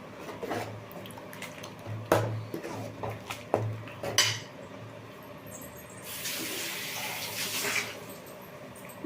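Water pours steadily for a couple of seconds into a pot of ground masala after a few metallic clinks and taps of kitchenware nearby.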